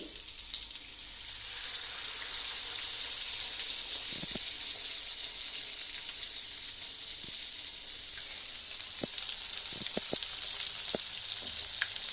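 Ripe jackfruit bajji fritters deep-fry in hot oil with a constant close sizzle and scattered sharp pops and crackles, and no voices.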